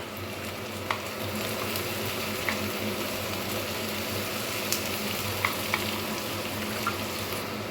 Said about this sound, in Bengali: ভেজে রাখা চিংড়ি মাছের তেলের মধ্যে কেটে রাখা পেঁয়াজ এবং রসুনটাকে খুব ভালোভাবে ভেজে নেব।